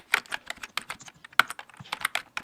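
Rapid keystrokes on a computer keyboard while working in VS Code, a close, crisp run of uneven clicks with a few louder taps and no voices.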